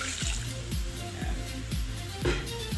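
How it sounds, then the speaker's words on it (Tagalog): Water poured into a cooking pot to make chicken sinigang soup with pechay, a steady splashing gush with rhythmic glugging pulses, close and continuous. "Ilalagay natin siya ng tubig."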